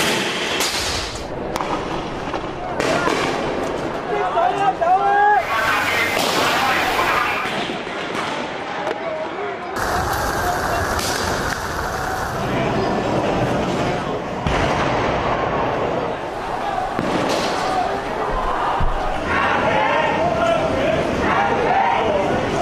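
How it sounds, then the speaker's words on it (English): Riot police in Hong Kong firing tear gas and water cannons at protesters, with repeated sharp bangs and booms over a crowd's noise in an outdoor street setting, some blasts near and loud, others farther, with talk mixed in. "Riot police are using tear gas and water cannons to disperse the crowds."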